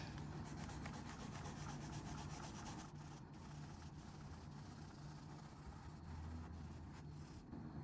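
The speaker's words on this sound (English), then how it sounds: "Get in there and give it a good polish." Steady hand polishing of a Fender-style guitar part during a string change, a continuous dense rubbing and scrubbing sound with fine rasping texture, close and fairly even throughout, with no talk.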